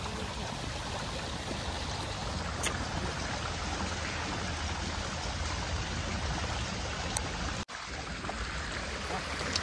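Water pours steadily from a mango tree beside a farm field, a dense, close, continuous rushing patter that holds level throughout and breaks off for a moment near the end.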